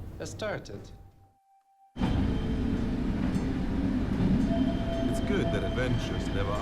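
Inside a moving train carriage, a steady rumble and clatter of wheels on track starts abruptly after a brief near-silence, with muffled voices and a thin tone at times.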